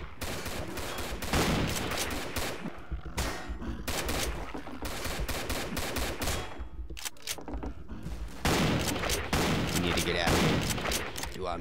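Rapid bursts of gunfire in the zombie shooter video game Codename CURE, with dense repeated shots and short pauses between volleys, loud and close throughout.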